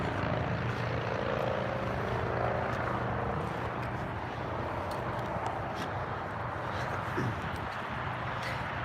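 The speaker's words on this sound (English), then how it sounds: "Can you hear the noise of the traffic?" Continuous freeway traffic near the 405 and 5 interchange, a dense steady roar of passing vehicles at moderate distance, with faint voices now and then.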